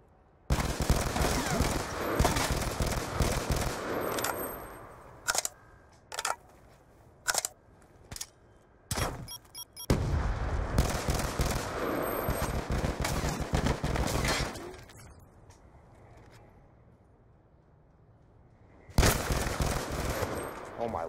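Automatic gunfire from a video game 1v1 match rattles out in repeated loud bursts, some long and sustained and others short and clipped, with brief quiet gaps between volleys.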